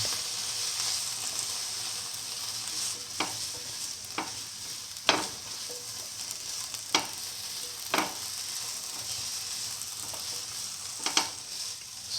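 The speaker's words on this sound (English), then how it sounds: "and mix the tomato pieces." Tomato pieces with salt fry in a pan with a steady soft sizzle, while a spoon stirs and scrapes them in occasional short strokes, close and fairly quiet.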